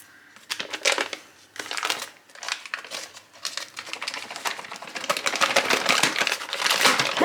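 Paper wrapper peeled and crinkled off a soft block of salted butter left out at room temperature, a run of close crackling and tearing rustles that grows busier toward the end, with no talking.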